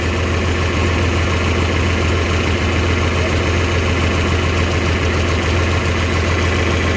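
A John Deere 4020 tractor engine idles while warming up, a loud, close, steady diesel rumble with a rhythmic knock throughout and no talking.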